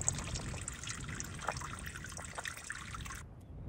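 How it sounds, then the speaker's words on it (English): Water dripping and trickling through a wild bog on the Isle of Skye, Scotland, a soft continuous trickle with scattered distinct drips, fairly close, with no voices. "The bog seemed to drip with water."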